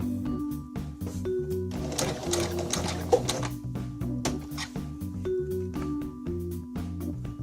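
A sewing machine stitches a flimsy chiffon hem in short bursts of a few stitches, its rapid mechanical clatter pausing and restarting close by, with faint bits of speech in between.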